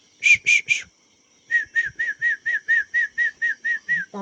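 A person whistles to baby quail, a quick run of three notes, pauses, then a steady series of about ten evenly spaced short whistles, close and clear.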